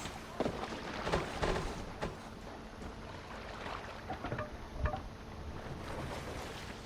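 Oars pull a boat through water with faint splashing and wooden knocks, set against a steady wash of wind and open water.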